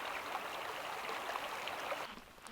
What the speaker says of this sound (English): get some good fresh running stream water